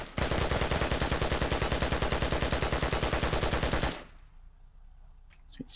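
Rapid automatic gunfire in the video game Squad, aimed at a shipping container: a loud, steady burst of closely spaced shots lasting about four seconds, then it stops and only faint distant sounds remain.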